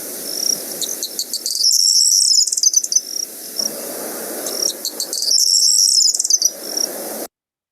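Bunting call, tinny and cricket-like: two high, buzzy trills with dry ticking endings, heard a few seconds apart over a faint low rumble, no talking.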